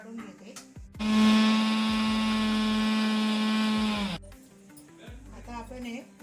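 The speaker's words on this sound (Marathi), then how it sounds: "आता हे सारं मी मिक्सरवर काढून घेते." A kitchen mixer grinder whirs loudly and steadily for about three seconds, grinding green chillies with sesame seeds, salt, asafoetida and turmeric, with talk just before and after.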